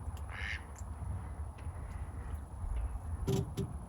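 A duck quacks in a short burst near the start, with a fainter pair of quacks near the end, heard over steady low background rumble and no talk, while building a solar arch for an electric sailboat.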